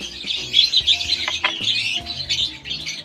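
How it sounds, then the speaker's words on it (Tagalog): A nestling bird being hand-fed chirps rapidly and insistently at close range, a run of high, shrill begging calls with small fluttering and handling noises mixed in. "Panoorin natin kung paano hand-fed ng ibon."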